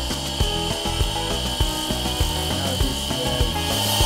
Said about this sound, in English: This part now is where we do the smoothening of the sculptures